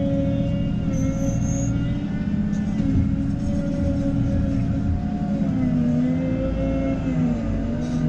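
A JCB Agripro 542-70 telescopic loader pushing muck, its diesel engine droning steadily and loudly up close throughout with shifting tonal whine, while a voice speaks faintly underneath.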